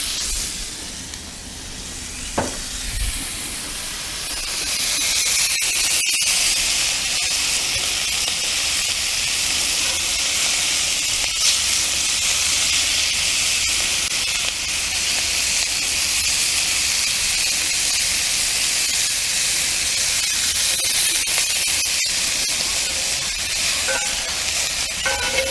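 Venison backstrap sears in olive oil in a hot pan, a steady loud sizzle and hiss that holds unbroken for the whole stretch after a brief quieter start.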